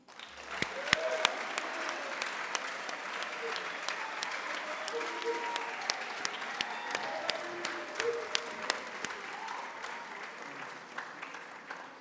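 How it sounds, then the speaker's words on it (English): An audience at a speech competition award ceremony applauds a middle school cadet winner, a sustained round of many hands clapping with a few sharper nearby claps standing out, some faint voices mixed in. "Please give a big round of applause to Ethan Levy"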